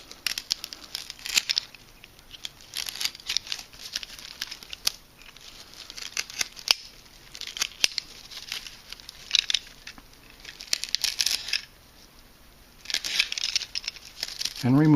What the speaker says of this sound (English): So I'm going to carefully cut this off.